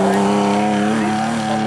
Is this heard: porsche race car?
yes